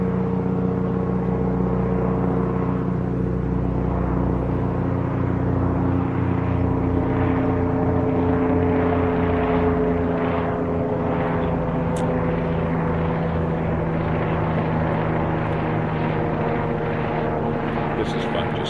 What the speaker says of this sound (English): like the helicopter flying overhead.